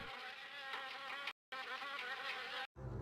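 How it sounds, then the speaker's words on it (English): Wasps buzz inside infested, sealed-shut cabinets in the video game Harvester, a dense, steady insect drone cut by two brief silent gaps, with no speech. "From the sound of it, these cabinets are infested with wasps."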